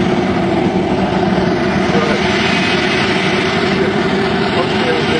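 A jet engine spooling up as the plane begins powering forward to taxi, a loud, steady, close roar that holds without pause throughout.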